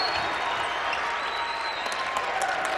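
A basketball arena crowd of about 3,000 in Louisville roars and applauds in a steady, loud wash of cheering, with faint whistles and sneaker squeaks.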